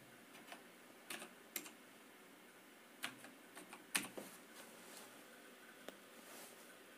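Keystrokes on a computer keyboard entering a captcha during an online form fill: quiet, irregular clusters of light taps with short pauses between bursts, close to the microphone and with no talking.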